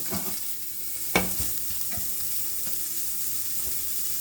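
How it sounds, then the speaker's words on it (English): Two smoked sausage links sizzle steadily in a hot frying pan, a continuous close crackling hiss with a brief scrape or clank of a utensil near the start. "these are two of the smoked sausage links. Already sizzling"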